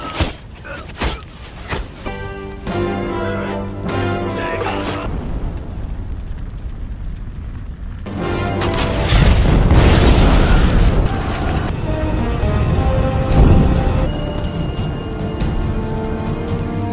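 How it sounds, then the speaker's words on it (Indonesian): Two large bombs exploding at an enemy gate in a battle, heavy booming blasts with rumbling, crackling debris that surge loud, briefly drop, then roar again through a long chaotic stretch. "Gan Xing mengambil 2 bom besar dan berlari maju sendirian menuju gerbang musuh"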